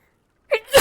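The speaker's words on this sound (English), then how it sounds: "if I sneeze properly, like full on, like proper sneeze" A single person's full sneeze bursts out after silence, a sharp inhaled catch followed by a loud explosive release at close range.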